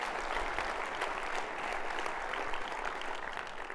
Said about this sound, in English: Can you guys give him a hand, man?